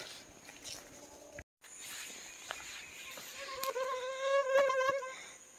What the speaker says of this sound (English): It is swarming with mosquitoes out here.